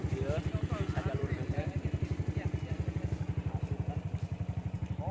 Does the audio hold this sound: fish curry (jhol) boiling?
no